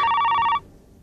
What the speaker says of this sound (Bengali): এই সাত সকালে আবার কেন ফোন করলো